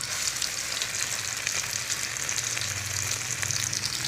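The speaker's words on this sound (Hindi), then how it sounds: "हमने अंडे में डिप करनी है और इनको फ्राई करना है।" Egg-dipped red chilli potato tikkis fry in a pan over low heat, giving a steady, dense sizzle that stays loud and close throughout with no voices.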